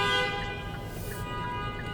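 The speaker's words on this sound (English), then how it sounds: "Now you hear the honking and all the mess." Car horns honk over and over in busy airport drop-off traffic near a taxi lane, a steady tonal blare with repeated toots over low engine rumble.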